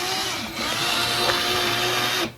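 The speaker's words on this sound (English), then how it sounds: "And you're just going to keep on drilling" A drill boring into wood whirs steadily, briefly dipping near the start before resuming, then cutting off abruptly at the end.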